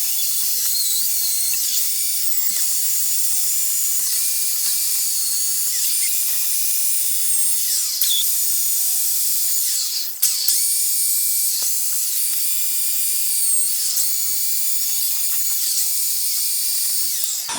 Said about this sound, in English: I just use a bloody drill and a good knotted wire wheel just to get rid of the surface rot